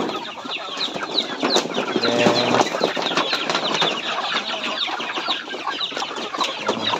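Flock of farm chickens being fed, clucking and chattering continuously at close range, with scattered calls overlapping and occasional wing flaps or scratching throughout.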